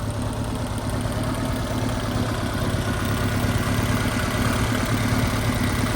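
A 1969 Lotus Elan S4 with twin Weber carburettors idles under an open bonnet, a steady, even mechanical hum with a fine regular pulse, heard close and constant with no talk.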